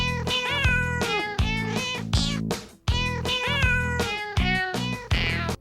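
A cat meows again and again in short, loud, drawn-out calls with brief gaps between them. The cries come close to the microphone and sound alone, with no speech over them.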